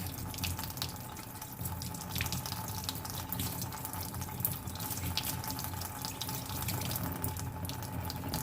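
A running faucet pours steadily into a sink, rinsing a plate, water splashing and spattering against the surface at close range, with no talking.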